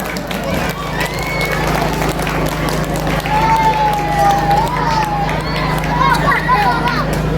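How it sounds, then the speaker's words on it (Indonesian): Crowd at a neighborhood Islamic New Year parade and children's performance event applauding and cheering, a continuous babble of claps and voices with a shrill whistle or cry rising midway, over a steady low hum. "Boleh kasih tepuk tangannya dulu dong"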